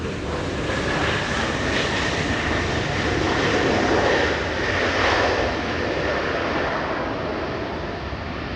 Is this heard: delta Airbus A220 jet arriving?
yes